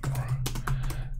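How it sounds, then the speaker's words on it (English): Quick keystrokes on a computer keyboard tap out a short burst of close, crisp clicks over a steady low hum, with no talking. "If I'm able to type."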